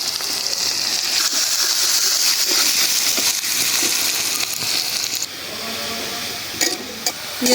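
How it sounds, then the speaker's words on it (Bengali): Steady sizzling of chopped onions deep-frying in hot oil until red and crisp, with occasional stirring scrapes; the sizzle softens a little toward the end. "পেঁয়াজটা একদম লাল করে বেরেস্তার মতো করে ভাজা নিলাম"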